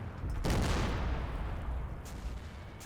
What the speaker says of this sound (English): we're seeing more more mortars dropping around here